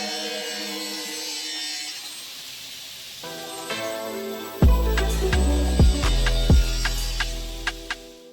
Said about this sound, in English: Woodcutting with robot KUKA KR360 KRC4 with HSD spindle and 20 meters lineal track.